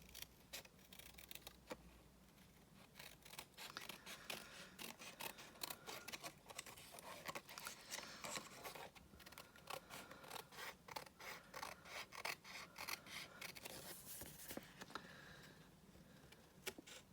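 Scissors trim paper for a handmade card and envelope, giving a run of close, crisp snips and rustles that repeat steadily over a quiet room with no talking.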